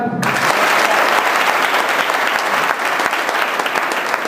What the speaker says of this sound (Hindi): सारे गुरुजी के नाम पे एक बार ताली